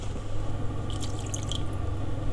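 Water is poured from a tap or jug into a pan while making gingerbread syrup with sugar, a steady trickling and splashing flow with brief dripping accents over a low background hum.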